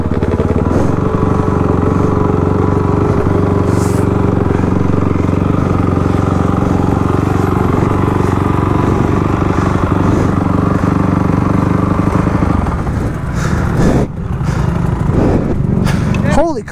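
Dirt bike engines snarl and rev continuously at a motocross race, loud and close with a rough, buzzing drone and some clatter, while people talk over the noise.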